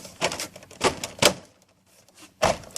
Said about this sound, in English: You really need to hear the click. Hear the click now, it's good.